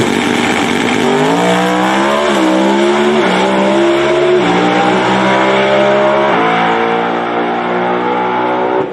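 An NHRA Top Alcohol Dragster's engine roars loudly and continuously at Norwalk, the pitch climbing in repeated stepped surges as it accelerates away down the track.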